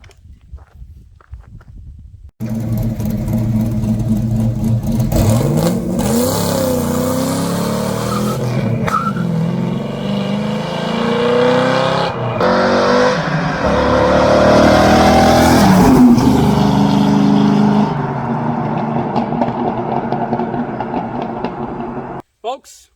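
A Chevrolet LS V8 engine revs and roars loudly for about twenty seconds, rising and falling in pitch with sharp throttle blips, then cuts off abruptly.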